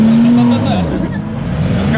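A local car drives up along an offroad dirt track where jeeps sit stuck, its engine a steady near rumble throughout, with people talking over it.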